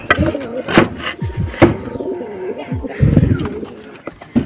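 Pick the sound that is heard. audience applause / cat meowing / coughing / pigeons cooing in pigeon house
pigeons cooing in pigeon house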